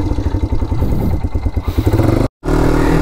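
An NS200 motorcycle revs loudly and close by on a dusty off-road track, its engine pulsing in rapid bursts with clattering mechanical noise before a brief cut-out and a return to a steady rumble.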